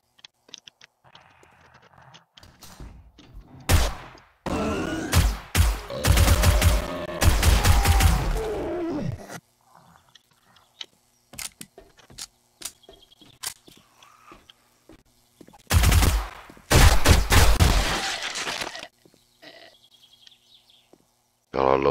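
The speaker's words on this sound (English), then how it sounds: "I love this sub gun." Submachine gun fire in the video game 7 Days to Die comes in loud, rapid bursts, two main volleys separated by quieter gaps with scattered single shots and clicks.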